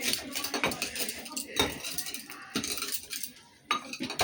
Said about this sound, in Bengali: জিরাটাকে এখন এরকম করে গুঁড়ো করে